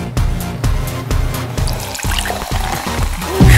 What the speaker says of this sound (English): Pepsi khola na